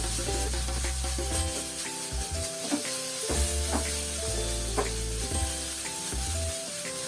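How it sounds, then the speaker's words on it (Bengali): Fish frying on high heat for a Bengali fish bhujia gives a steady, bright sizzle throughout, partly masked by prominent tonal music playing over it. "এখন মাছকে আমি হাই হিটে 2 থেকে 3 মিনিট ভেজে নিচ্ছি।"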